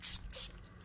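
Two quick hissing bursts of shaded lilac color sprayed onto tissue paper, close and moderately loud, with a short pause between them.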